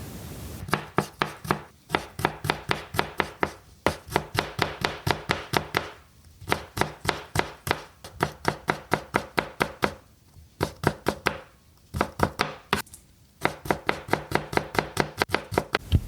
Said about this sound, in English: and the chopping of vegetables.